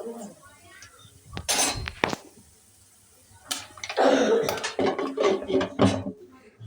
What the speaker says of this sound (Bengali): এখন আমি ঢাকনাটা ঢেকে দিলাম।